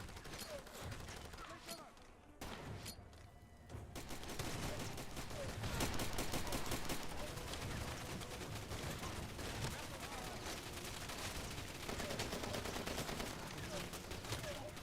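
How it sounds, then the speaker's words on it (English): In the Far Cry video game, a grenade sets off an ammo cache, loosing a long, dense, continuous crackle of popping rounds, with a short lull early on before steady bursts fill the rest of the clip. "I blew it up with a grenade, which pinged off bullets in every direction"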